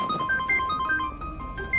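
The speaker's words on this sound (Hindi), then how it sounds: "इस टाइम किसका फोन आ गया?" A phone ringtone plays a bright, repeating electronic melody, close and steady, with no voices.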